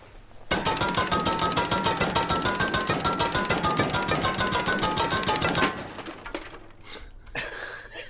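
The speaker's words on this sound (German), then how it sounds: "Jetzt sind wir mit dem Jackhammer in der feindlichen Base und hammert da einfach wie so verrückt." A jackhammer pounds away inside an enemy base in the video game Rust, a loud, rapid, continuous hammering for about five seconds that then stops, leaving scattered clinks and quieter sounds.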